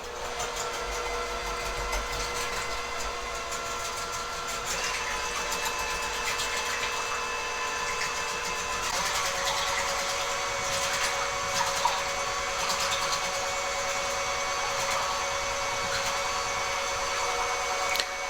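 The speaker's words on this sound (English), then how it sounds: "you can mix by hand, but I am using my KitchenAid" A KitchenAid stand mixer whirs steadily as it beats a tortellini salad dressing, its motor drone and tonal whine running unbroken and close for the whole stretch, with no talking.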